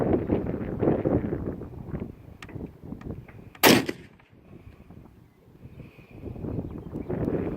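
A single loud, sharp shot rings out from a Ruger M77 .300 Win Mag rifle fired without a muzzle brake, rising over outdoor wind and muffled rumble before fading.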